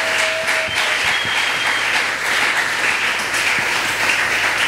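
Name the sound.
congregation applause and cheering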